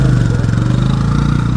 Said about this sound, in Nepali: साथीहरू बाइकमा सरर गए